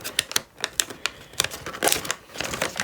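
Paper being creased and folded by hand while making an origami peacock from a single sheet, a quick series of close, sharp crinkles and taps with a denser rustle near the end.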